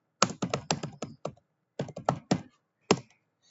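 A computer keyboard clatters as a domain-name command is typed for a Cisco Packet Tracer network configuration, with quick bursts of close, crisp keystrokes separated by short pauses, no voices.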